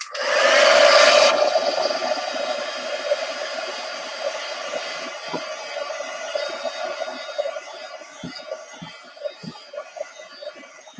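A hair dryer blows steadily up close, drying stamped papercraft, a loud continuous whoosh that gradually softens, with a few faint clicks and handling bumps near the end.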